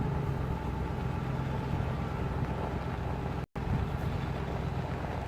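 Vehicle creeping slowly along a gravel track, a steady low engine drone with faint crunching, broken by a brief dropout partway through.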